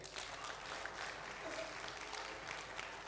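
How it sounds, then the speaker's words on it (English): Audience at an awards ceremony applauding a person called to the stage, a faint, continuous spread of clapping from a sizeable crowd, steady and distant throughout. "And can we have a big applaud for Amar?"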